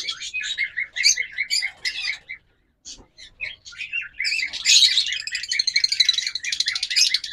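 Pairs of violet and opaline pet budgerigars in cages at a bird shop chirp and chatter in rapid, overlapping bursts, close and lively, with a brief lull before the calls build again.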